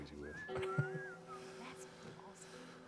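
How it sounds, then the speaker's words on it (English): Ellie, a character in The Last of Us video game, whistles a short rising and wavering tune that sits clearly over soft background game sound and lasts about a second before fading. "Now's not the time to be whistling"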